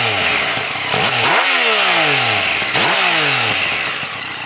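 A bone-stock Yamaha MT-09 motorcycle engine revs hard twice, each blip climbing sharply to a loud, raspy howl and sliding back down, close and alone with no talk.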